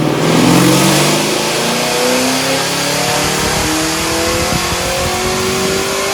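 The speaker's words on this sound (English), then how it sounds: "And then it was time to dyno this car and see what it would do." A 1968 Chevrolet Camaro pro touring build with an LSA V8 revs hard on a dyno, its loud, close engine note climbing steadily in pitch for several seconds with no talk.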